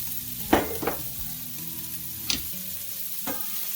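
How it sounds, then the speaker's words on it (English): Diced shallots sauté in a pan with a continuous sizzle, punctuated by a few sharp utensil scrapes and stirs, heard up close with no talking. "The next thing you want to do is throw in some diced shallots."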